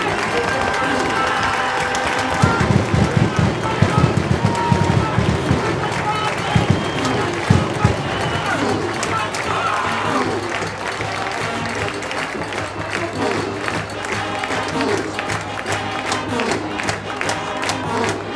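A stadium crowd roars and applauds as the Massillon Tigers football team runs onto the field for a night playoff game, a continuous loud swell of cheering with clapping and shouts, a voice talking over it.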